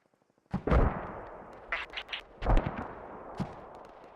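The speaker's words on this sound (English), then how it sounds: "Who's shooting mortars?" Mortar fire in a military shooter game: a heavy, near boom with a long rumbling tail, then scattered smaller blasts and a second strong impact, with quiet decay between.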